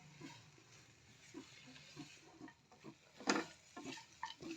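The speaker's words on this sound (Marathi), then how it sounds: "त्याच्यामध्ये आता आपण इथे मीठ घालून घेणार आहे. 1 चमच मीठ घालणार आहे मी इथे. व्यवस्थित हलवून घ्यायचं आहे." Salt being stirred into spiny gourd sabzi in a pan: faint, intermittent scraping and soft clattering of a spoon against the pan, with one sharper knock near the end, recorded quietly.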